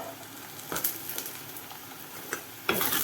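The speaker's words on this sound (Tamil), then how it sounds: "பீக்கங்காய் போட்டு லேசாக ஒரு வதக்கு வதக்கிடுவோம்" Ridge gourd and onions sauté in a hot pan, a soft continuous sizzle broken by a few brief stirring scrapes and a louder burst near the end, with no talking.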